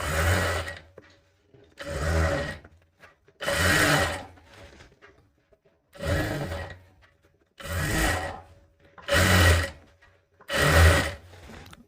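A sewing machine stitches a folded seam on a katori blouse in seven separate loud bursts, each a second or so long with short quiet gaps between, no voices over it.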